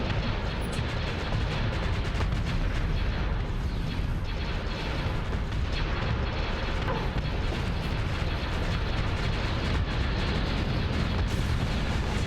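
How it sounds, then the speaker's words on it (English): Dense, continuous barrage of spaceship weapons firing in the Starsector space combat game, with rapid overlapping shots and booming impacts sustained loudly throughout with no pauses. "See, the guns are shooting."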